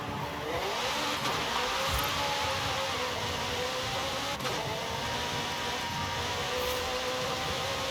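Supercar engine in Forza, a steady high-pitched drone held at a constant, loud level with a faint whine on top and no talk.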